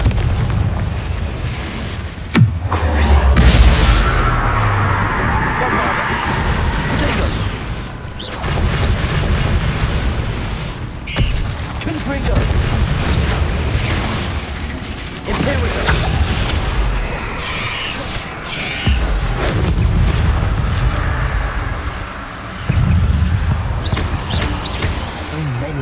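Confringo fire spell explosions in the Hogwarts Legacy video game, deep booming blasts recurring every few seconds over rumbling combat noise, with a voice talking throughout.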